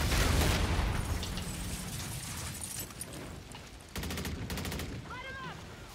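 Gunfire from the shooter game Call of Duty: Infinite Warfare, with dense rattling bursts at the start that ease into scattered shots and a sharp volley near the four-second mark, mixed with game effects and faint talk.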